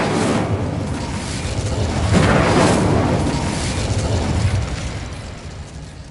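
The Incendio fire spell being cast in Hogwarts Legacy, heard as a loud, sustained roaring burst of flame with a swelling rumble about midway before it slowly eases off.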